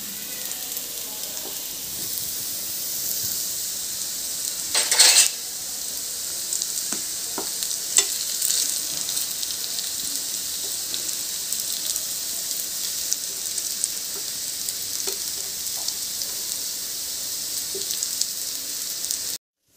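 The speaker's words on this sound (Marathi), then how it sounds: "आपण मस्त दोन्ही साईडनी खरपूस कलर येईपर्यंत चांगलं शॅलो फ्राय करून घ्यायचे" Kothimbir vadi, coriander fritters, shallow frying in oil in a pan, giving a steady close sizzle throughout with a brief louder crackle burst midway and a few faint utensil taps.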